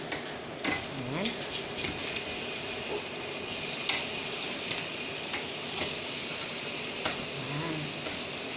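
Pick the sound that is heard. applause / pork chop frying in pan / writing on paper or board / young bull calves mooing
pork chop frying in pan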